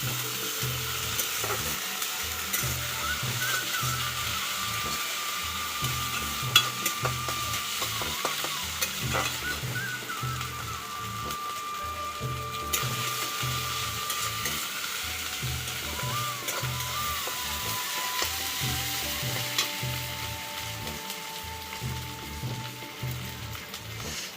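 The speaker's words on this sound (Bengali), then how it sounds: "আদা রসুনটাকে একটু ভালো করে ভেজে নেব।" Ginger garlic paste fries in a pan for a village-style chicken and potato curry, with a continuous sizzle and rhythmic, repeated scraping strokes of stirring throughout, no talk.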